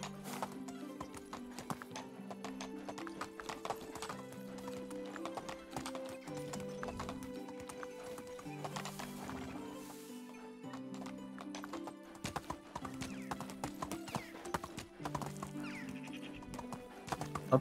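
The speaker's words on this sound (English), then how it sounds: "Alright, donkey, back up the mountain." Donkey hooves clip-clop steadily up a mountain path in the medieval survival game Medieval Dynasty, a continuous walking rhythm layered over game music with an occasional whinny-like animal call.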